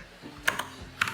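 Several light keystrokes on a computer keyboard as a PowerShell install command is entered, short separate clicks in two small clusters, close and quiet with no talking.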